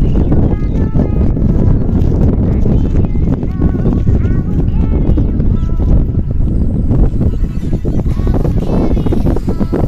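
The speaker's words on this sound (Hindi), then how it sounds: "बहुत तेज हवा चल रही है" Strong wind blows beside the Musi River at sunrise, a loud continuous rumbling buffet across the microphone that never lets up over the whole stretch.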